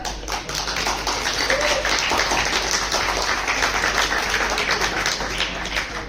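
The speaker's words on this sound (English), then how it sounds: "A huge round of applause for Mr. Nikhil Dota" Audience applause for an E-Summit keynote speaker, a steady dense wash of clapping that holds evenly throughout with no talk over it.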